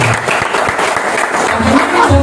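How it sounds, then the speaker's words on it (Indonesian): Applause from an audience at an Indonesian business presentation, a steady wash of clapping over the full stretch with some voices mixed in. "luar biasa, tepuk tangan dulu lah buat"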